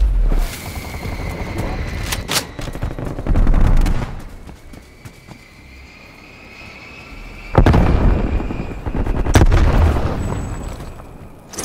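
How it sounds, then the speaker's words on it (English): Heavy gunfire and booming explosions from a strafe run in Call of Duty: Black Ops Cold War, loud bursts rolling in two waves separated by a quieter stretch of distant battle noise. "Strafe run incoming on your location."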